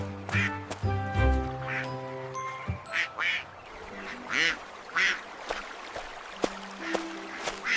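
Ducks on a calm park pond quack in a series of short, clear calls, near to moderately distant, over soft outdoor ambience.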